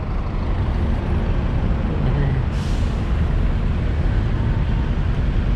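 Dense, steady road traffic on EDSA in Manila with buses and trucks rumbling past, and a brief hiss of a truck air brake partway through, all loud and continuous with no voices.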